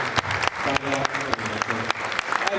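Audience applause for guests at a crime-literature event in Córdoba, a lively burst of clapping with distinct sharp claps standing out over the crowd wash, with some voices mixed in.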